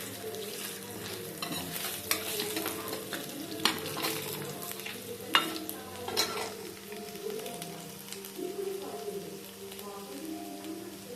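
Mustard and cumin seeds splutter and crackle in hot oil for a village-style brinjal fry, with a steady sizzle, scattered sharp pops and occasional spoon scrapes against the pan.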